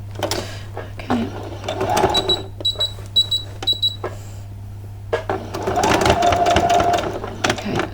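A sewing machine stitches across fabric for a two-skirt dress in quick whirring runs and bursts of rapid ticking over a steady low hum, with brief pauses and faint speech nearby.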